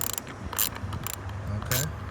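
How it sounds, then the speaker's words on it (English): 10mm ratchet and socket loosening a bolt on a Hyundai Elantra during ignition coil work, a few quick clicking ratchet bursts close by, with light mechanical rattles between them. "I got a 10mm ratchet and socket right here, that's what it should be. All you gotta do is loosen up this bolt."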